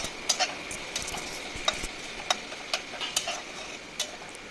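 Onion, ginger and garlic paste frying in a pan, a soft continuous sizzle under sharp, evenly spaced scrapes and taps of a spatula stirring, close and fairly quiet.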